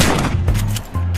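Rapid bursts of gunfire from a shooting video game ring out loud and close, a short sustained volley with no talking.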